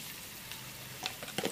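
Ivy gourd (dondakaya) curry frying in a pan, with a soft continuous sizzle and a few brief clinks of stirring near the end, no voices.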